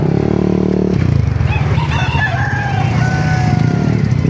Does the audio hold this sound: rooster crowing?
yes